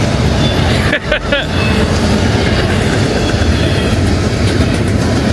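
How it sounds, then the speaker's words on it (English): Loud, continuous roar of a passing freight train rolling close by, heavy rumble filling the whole clip, with a brief metallic squeal near the start. "When they go by, they're so loud, they're so massive."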